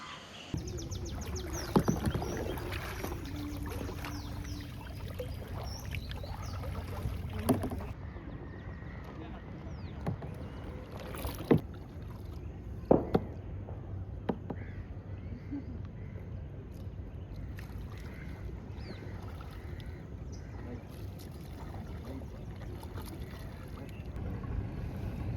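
Kayak paddling on the Alleppey backwaters in Kerala, with faint water splashes and occasional knocks over a soft wind rumble, all fairly quiet and heard at close range.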